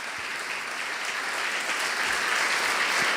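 A church congregation claps loudly and continuously, a thick wash of applause that holds steady throughout.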